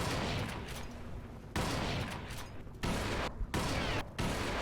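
Gunfire in the video game Crysis Warhead, rapid bursts of shots in sustained loud fusillades broken by brief pauses, with no talk over it.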